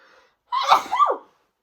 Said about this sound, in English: I just have to sneeze like so much.